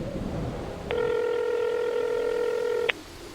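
A telephone number is dialed as one steady multi-tone beep lasting about two seconds, clear and close, over faint background noise with no talk.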